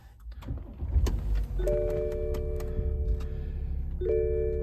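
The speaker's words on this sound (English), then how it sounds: "The slightest hint of dieseliness to it when you start up the motor, and also at idle." A 2015 BMW 740Ld diesel engine cranks, catches and settles into a steady idle, with a constant low rumble and a couple of electronic chimes sounding over it.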